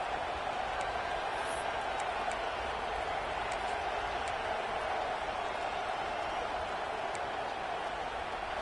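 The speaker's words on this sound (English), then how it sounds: "This place is roaring, and it's going to be so hard to operate under these conditions." Stadium crowd roaring in a college football video game, Nebraska against Penn State, a constant broad wash of crowd noise held at one level, with a commentator's voice over it.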